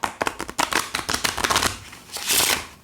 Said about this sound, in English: And to show you how wonderfully this deck shuffles.